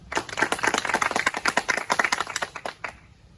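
Audience clapping at a science quiz, a dense patter of many hands beating fast and loud for about three seconds before thinning out at the end, with no voices over it.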